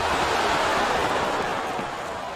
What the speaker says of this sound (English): Sounds like this crowd's got something on their minds